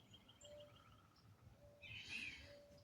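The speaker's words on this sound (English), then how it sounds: "Hear the birds singing." Faint early-morning birdsong in the distance, a few thin whistled calls and chirps over quiet outdoor background hiss.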